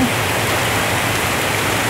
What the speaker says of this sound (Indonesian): beginilah suasana hujan hari ini sobat